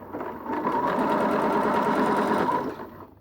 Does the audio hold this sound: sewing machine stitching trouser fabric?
yes